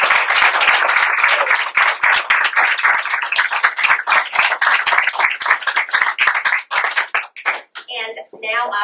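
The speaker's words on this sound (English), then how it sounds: "A round of applause." Loud, close applause at a school board meeting, dense rapid clapping from a room of people that holds steady for several seconds, then thins and breaks up as a voice begins speaking near the end.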